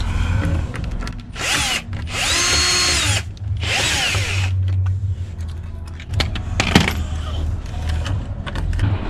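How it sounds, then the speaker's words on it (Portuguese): A power drill drives screws into a goose house, with several whining bursts of the motor rising and falling, close and loud, separated by handling clatter and short pauses. "Agora eu vou finalizar parafusando aqui, uma na outra."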